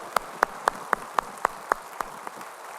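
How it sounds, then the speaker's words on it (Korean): A church congregation claps in unison during a Sunday service, even and rhythmic, about nine sharp claps at a steady beat, with no voices. "주님께 영광의 박수 칩시다"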